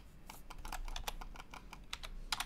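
Fingers typing on a computer keyboard, a quiet irregular patter of key clicks with a quick cluster near the end, close and alone.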